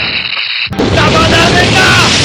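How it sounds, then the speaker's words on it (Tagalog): An anime raygun Flame Power attack erupts as a sudden, loud, broadband blast that roars on as a sustained burst after a short tonal lead-in. "Gagamitin na niya ang Reagan niya! Raygun! Flame Power!"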